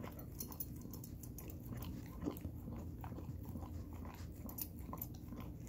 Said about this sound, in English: As you can see, Murphy loves peanut butter